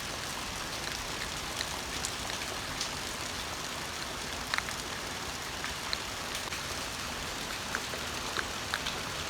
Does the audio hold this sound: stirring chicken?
no